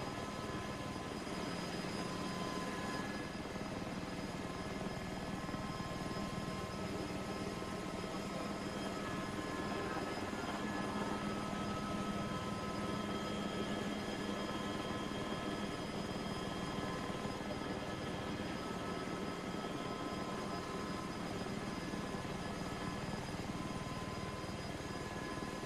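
AS350 helicopter in the Prepar3D flight simulator, a continuous rotor and turbine drone with steady whine tones, even and unbroken for the whole stretch.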